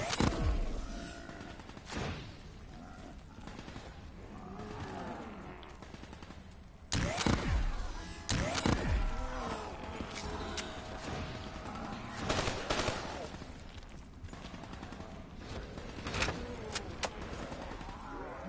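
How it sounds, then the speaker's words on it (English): Three-round burst gunfire in Call of Duty Black Ops 3 comes in sharp, clustered cracks among other shots and combat noise, with brief quiet stretches between the louder bursts. "this 3-round burst nonsense is really beginning to get to me"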